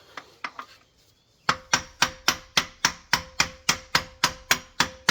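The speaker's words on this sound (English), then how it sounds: "I'm just going to give this a couple whacks and see if it'll just come right out" Hammer blows strike a Subaru Crosstrek rear wheel bearing. A few lighter taps come first, then a short pause, then a steady run of about a dozen hard metallic whacks, close and evenly spaced, with no voices.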